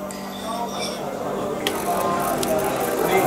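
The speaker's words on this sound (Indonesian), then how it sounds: "Jadi kita semprotkan dengan WD" An aerosol can of WD lubricant sprays onto a car engine part at an auto show stand, a steady close hiss lasting a few seconds over a busy background of crowd chatter and a low hum.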